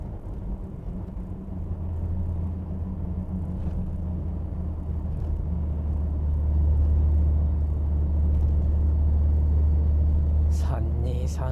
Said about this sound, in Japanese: なんかこの RB の音もいいね。